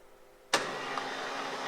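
An electric seat motor in a Mercedes W124/W126 non-memory front seat starts abruptly and runs with a steady whirring hum, close and moderately loud, continuing to the end without speech.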